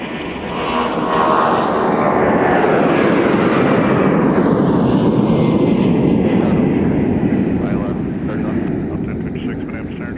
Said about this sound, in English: we got a 757-300 taking off